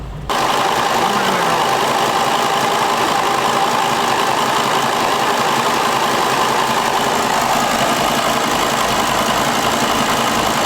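A high-mileage Volkswagen Touareg V10 TDI, fitted with a new alternator, idles steadily close by. A continuous diesel rumble and hum sits under a wash of broadband noise throughout.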